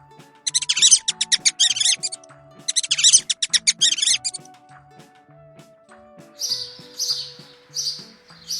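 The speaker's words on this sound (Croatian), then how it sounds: "Miš." Mouse squeaking in two rapid bursts of high, chattering squeaks, followed by a few brief chirp-like calls, all over soft background music.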